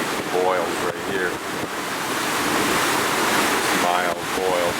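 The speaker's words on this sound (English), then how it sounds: "Mild boils from the water in the cave rushing through the little gap up here." Water rushing through a small gap in a sea cave in a Chilean channel makes a continuous broadband surging roar, loud and steady, mixed with wind buffeting and a voice speaking over it.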